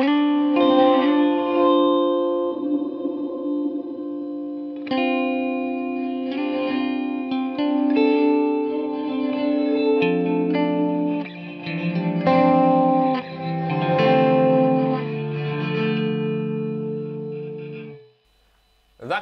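An electric guitar runs through a Line 6 Helix non-linear reverb with high diffusion, sustained chords and notes swelling into a dense, shimmering wash that holds steadily before cutting off near the end, close and clear with no talk.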